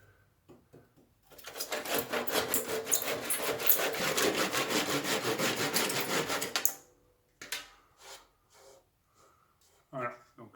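Small hand saw finishing a cut through wood, a steady brisk rasping stroke rhythm for about five seconds, then stopping, followed by a few quiet knocks and handling sounds.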